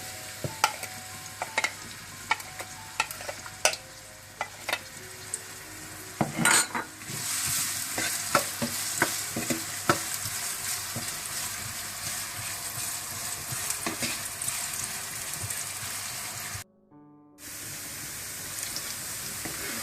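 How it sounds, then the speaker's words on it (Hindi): Oil sizzles continuously as onions fry, with frequent spoon scrapes and clinks against the pan and a brief dropout near the end. "इसमें प्याज डाल लें और इनको हल्का सा भून लें।"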